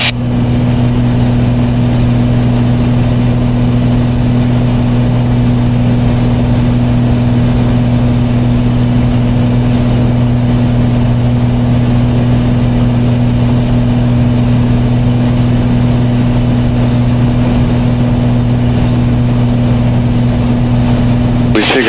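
A Piper PA-32 single-engine aircraft cruising in flight fills the cabin with a loud, unbroken engine drone and steady humming tones that hold constant throughout.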